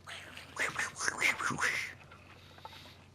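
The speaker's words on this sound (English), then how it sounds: "Sound like ducks." Goblin enemies in the Final Fantasy XVI video game give a run of quacking, duck-like calls, several short nasal bursts over about two seconds that then fade to quiet background.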